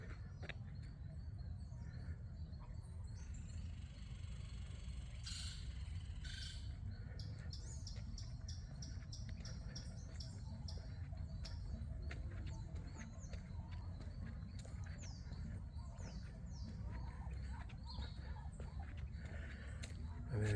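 Birds chirping and squawking in a nature park, scattered calls over a steady low rumble of outdoor ambience with faint footsteps, no speech.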